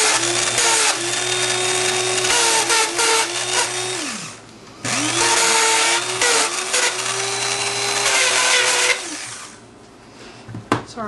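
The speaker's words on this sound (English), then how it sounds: "Let me use my Distress It All real quick." A loud, close electric paper edge distressing tool whirs and grinds on dictionary paper in bursts, pausing briefly between passes, with scraping buzz before winding down to quieter clicks.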